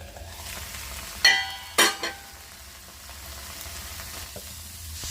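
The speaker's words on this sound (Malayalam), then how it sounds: "ഇനി അടച്ചു വെച്ച് മീഡിയം ഫ്ലെയിമിൽ വേവിച്ചെടുക്കാം." Green beans cooking in coconut oil in a pan over a medium flame, with a low steady sizzle broken by a couple of sharp metallic clinks from a lid or utensil, with no voices.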